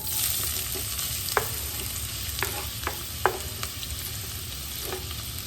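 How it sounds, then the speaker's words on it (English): Onion added to about two tablespoons of hot oil in a pot sizzles steadily and loudly, close by, with a few faint clicks of a utensil stirring, no voices. "To my pot, I'm going to go ahead and add my onion."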